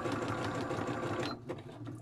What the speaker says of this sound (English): you've got the noise of the machine